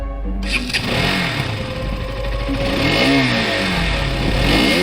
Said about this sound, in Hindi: लेकिन तभी पॉटी बॉय शॉन स्कूटर से रॉड की तरफ आता है